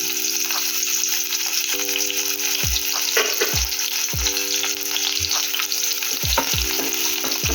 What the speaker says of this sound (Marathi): आता टाकू आपण त्यात कांदा आणि 4-5 कढीपत्त्याची पानं.